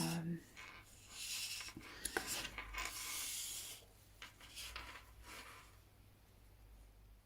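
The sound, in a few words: writing words by hand with a pen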